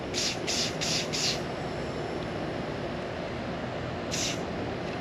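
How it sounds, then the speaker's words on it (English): A spray paint can hisses in short bursts onto the bottom of a glittered tumbler, several quick sprays at the start and one more later, over a steady broadband background noise. "So I'm just going to be grabbing a color and just spray painting the bottom."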